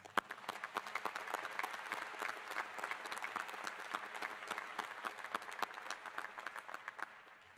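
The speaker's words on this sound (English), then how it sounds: "Let's thank them with a round of applause." Audience at a university convocation applauding staff, steady crisp clapping from many hands in a large hall, moderately near and continuous with no speech.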